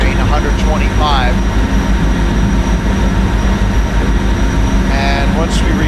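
PRR V2 Santa Fe Express train running at speed near 125, with a loud steady rumble and rail noise throughout and brief squeals and whines rising above it.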